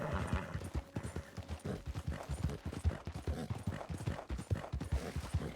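A horse's hooves clip-clop in a steady trotting rhythm on the ground in Red Dead Redemption 2, fairly close and quiet, with no talk over them.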